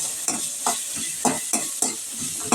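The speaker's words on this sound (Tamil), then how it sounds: "கொஞ்சம் நல்லா வதங்கிட்டோம்" Bottle gourd and turkey berries sauté in a pan, a steady close sizzle broken by regular scraping strokes of a stirring spoon about every half second.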